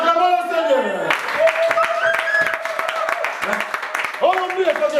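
Church congregation applauding and acclaiming during a service, with dense clapping and cheering voices mixed with loud singing or shouted praise, fairly close and continuous.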